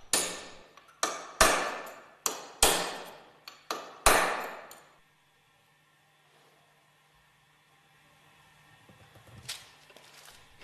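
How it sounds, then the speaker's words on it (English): Hammer blows on a mandrel drive an angular contact ball bearing out of its bearing bush during a Westfalia OSD purifier overhaul. About seven sharp metallic strikes ring out in quick succession over five seconds, then near silence follows with one faint knock. "Drive the angular contact ball bearing out of the bearing bush with the aid of a mandrel."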